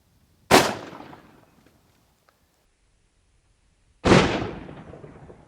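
Two loud, sharp gunshots from a .458 Win Mag rifle fired into a tree outdoors, each a single booming crack with a decaying tail, spaced a few seconds apart amid quiet.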